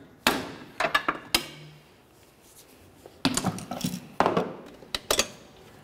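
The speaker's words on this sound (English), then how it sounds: "use the pry bar and your hammer, break it free so you can remove the bellows boot" Sharp metallic strikes ring out in a few clusters, hammer blows on a pry bar breaking free a bellows boot clamp on a 2004-2006 Scion xB, with short pauses between them.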